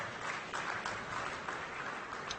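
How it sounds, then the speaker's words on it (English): Applause at the 2013 Golden Goggles awards show dinner, a steady wash of clapping from a crowd at moderate level throughout, with no voices over it. "One person clapping."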